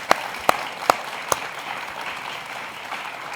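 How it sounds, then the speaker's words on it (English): Audience applause for guests after a church talk on mental health opens with four sharp, evenly spaced claps close by, then settles into a quieter, diffuse spread of clapping from the room. "give our guests a round of applause for joining us today"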